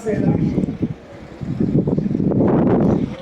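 Gusty wind buffets the microphone in low rumbling bursts, with a voice speaking briefly amid the noise.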